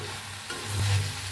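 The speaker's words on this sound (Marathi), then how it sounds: "कोथिंबीर धुवून देठा सकट घेतले ते मी ह्याच्यात भाजून घेऊया, हलवूया." Soft sizzling with a brief scrape of a spatula stirring coriander leaves with stems and mint in a hot pan, close and quiet.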